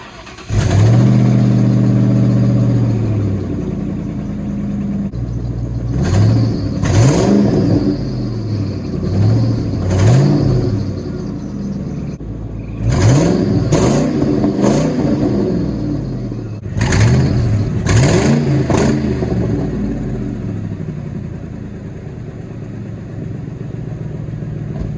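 A V8 Ford Mustang driving, its engine note rising and falling through repeated revving accelerations and gear changes, loud and close over a constant rumbling idle and road noise.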